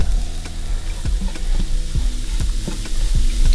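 Fish seasoning cooking down in an unwashed pan used for Alaskan cod, heard as a continuous loud sizzle and fry with several sharp scraping stirs at regular intervals.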